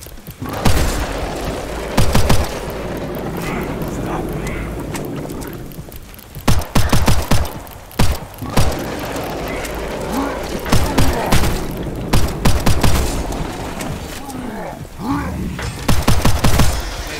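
Bursts of gunfire from the video game Hellbreach: Vegas, with loud clustered shots and booming impacts coming in waves over a steady background, while a voice calls out over the action.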